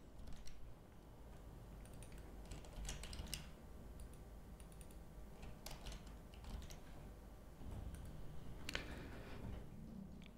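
Text is typed on a computer keyboard in quick, irregular bursts of faint clicking keystrokes, with no voices.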